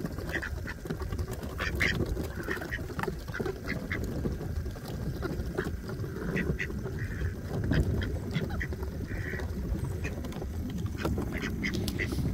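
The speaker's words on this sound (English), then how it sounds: "Say bye to YouTube duckies." Several ducks quack on and off, fairly close, over a steady low rumble of outdoor background noise.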